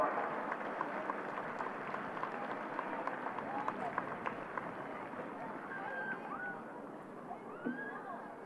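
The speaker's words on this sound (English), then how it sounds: "Can we start by giving two teams a great round of applause for an outstanding game in Camogie?" A crowd applauds the two camogie teams at Kenny Park after a Galway championship match between Sarsfields and Athenry, with steady, dense clapping that carries on throughout under a faint voice.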